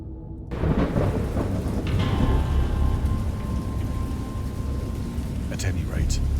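Loud, steady heavy rain pours through a thunderstorm in the Dagon video game, with deep rumbling thunder rolling continuously underneath and a few sharper crackles near the end.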